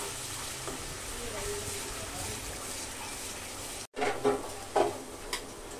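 A steady sizzle of ginger-garlic paste frying in oil, then a brief cut followed by a few louder scraping stirs in the pan.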